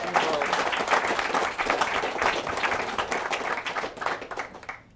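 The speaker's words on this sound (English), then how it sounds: "So please give him a round of applause." Applause from a wedding reception audience after a groom's speech, a dense steady patter of many hands clapping close by, holding strong for about four seconds before tapering off at the end.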